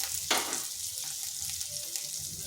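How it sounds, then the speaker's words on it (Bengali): Ground spices with ginger and turmeric fry in oil over low heat, giving a steady close sizzle with a brief louder crackle near the start as they are stirred. "এরপর মশলাটা একটু ভালোভাবে কষে নিচ্ছি যাতে তার কাঁচা গন্ধটা চলে যায়।"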